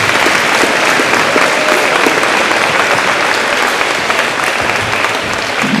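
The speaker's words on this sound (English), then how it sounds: "Give them a big round of applause." At a county 4-H pageant, a large audience gives a loud, sustained round of applause with no letup, a dense, steady wash of many hands clapping at once.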